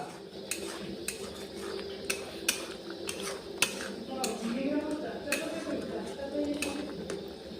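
Potatoes dropped into a cooking pot for bhuji, sharp clinks of a metal utensil against the pot over a low cooking hiss, with voices chatting nearby.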